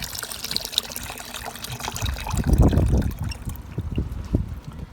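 Rainwater pours out of a rain barrel in a steady trickle and splash, swelling midway and running on to the end with small gurgles, close by and fairly quiet in an outdoor garden with grapevines.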